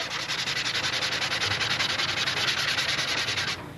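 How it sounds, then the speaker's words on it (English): Sanding sponge with sandpaper worked back and forth along a model aircraft wing's leading edge, a close, steady rhythmic rasping in quick even strokes that stops abruptly near the end. "They call it a sanding sponge, but because it has sandpaper on one side, it tends to hold the sandpaper in place"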